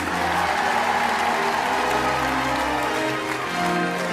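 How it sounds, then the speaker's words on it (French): A TV studio audience claps loudly at a Christmas charity evening show, a dense continuous roar of applause with music underneath. "Et on applaudit fort, évidemment, Mireille et Julien."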